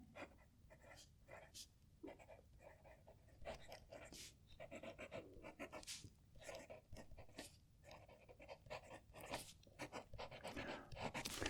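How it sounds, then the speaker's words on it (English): A fountain pen with a medium steel nib, a piston filler, scratching across paper in short strokes and pauses, faint and close, with soft background noise and some nearby breathing. "So this is a medium steel nib. Love the way this sounds."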